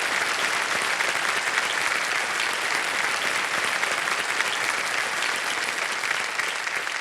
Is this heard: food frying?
no